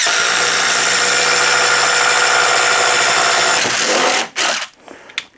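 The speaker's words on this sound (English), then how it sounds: "Three-quarter inch self-feeding spade bit." An impact driver drives a three-quarter inch self-feeding spade bit into wood with a loud, steady buzzing hammer for about four seconds. It then stops abruptly, followed by a few brief bursts.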